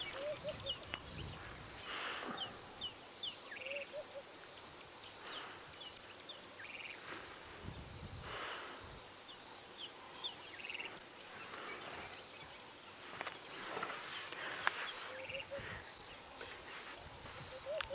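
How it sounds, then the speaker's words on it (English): Dawn chorus on a safari drive at 6:08 AM: steady insect buzzing and chirring fill the background while scattered bird calls, including robins, and soft turtle dove coos sound at a distance throughout, with no talking. "have a little listen as the dawn chorus is only waking up at 6:08"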